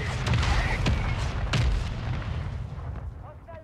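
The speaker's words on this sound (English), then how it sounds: "remember there's a mortar on them" Mortar strikes explode in Call of Duty Warzone, with several sharp booming blasts around the first two seconds over a dense, rumbling battle din that slowly fades.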